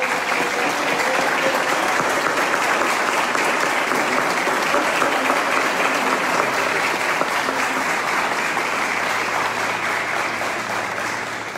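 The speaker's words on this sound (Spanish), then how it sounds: "Recibamos con un fuerte aplauso al homenajeado de hoy" An audience applauds at a homage ceremony for a 100-year-old honoree, dense steady clapping from a large crowd that holds strong for the whole stretch and eases slightly at the end.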